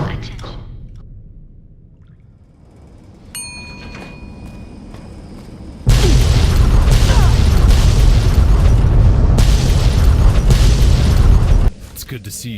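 Vault 18's reactor self-destructs in the game Fallout: New California. Quieter tones and an electronic chime lead into a sudden, loud, sustained rumbling blast that roars for about six seconds before cutting off.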